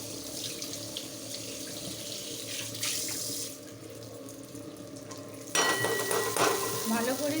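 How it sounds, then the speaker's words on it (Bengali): Boiled cabbage drained at a kitchen sink, water pouring and splashing steadily from start to finish, surging louder near the end; no talking. "এবার বাঁধাকপিটা আমি সব ছেঁকে দিয়ে দেব।"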